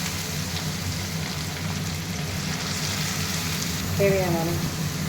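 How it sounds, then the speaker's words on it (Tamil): Steady sizzling and crackling of chopped onions frying in a hot pan until brownish, constant and close, with a brief scraping stir near the end. "ப்ரௌனிஷாக ஆகிற வரைக்கும் ஆனியனை வதக்கிக்கணும்"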